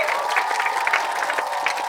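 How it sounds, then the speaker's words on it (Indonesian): Steady, dense applause from a studio audience on an Indonesian talk show, filling the whole stretch evenly at moderate loudness with no voices on top. "tepuk tangan dulu dong"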